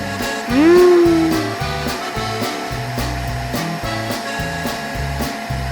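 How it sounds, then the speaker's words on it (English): A noisy cartoon vacuum cleaner hums loudly and steadily with a whirring drone, a brief rising whine near the start, running alone without talk. "Everything is quiet until the vacuum cleaner wakes up."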